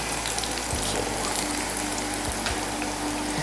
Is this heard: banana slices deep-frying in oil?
yes